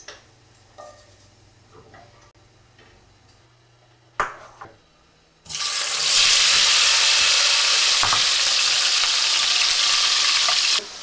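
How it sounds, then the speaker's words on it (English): Three crushed garlic cloves frying in oil, quiet at first with a few faint ticks, then a loud, steady sizzle that bursts in midway and holds close and continuous to the end. "The purpose of cooking the garlic in the oil is to flavor the oil"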